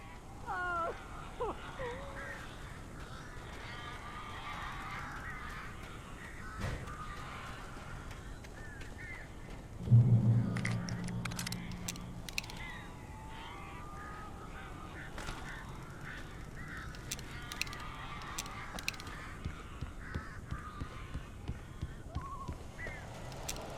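Birds in the horror game Alan Wake caw and honk in scattered, overlapping calls around an indoor space, with a sharper burst of flapping noise midway and steady game ambience beneath.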